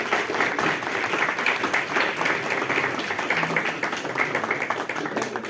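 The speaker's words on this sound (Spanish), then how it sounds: "Un aplauso, por favor." Steady audience applause after a lecture on traditional folk healing, dense continuous clapping from a crowd filling the room at even loudness throughout, with no voices over it.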